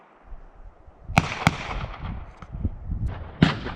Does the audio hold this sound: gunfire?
yes